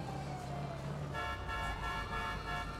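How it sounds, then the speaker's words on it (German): A car horn in Grand Theft Auto 5 toots on a busy shopping street, a steady horn tone sounding over traffic noise and game ambience, close and fairly loud. "Die reagieren überhaupt nicht aufs Hupen."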